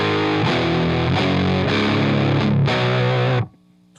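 An electric guitar plays through a Drunk Beaver Bat Cold War RAT-style distortion pedal, loud saturated chords struck in several sustained hits before cutting off sharply.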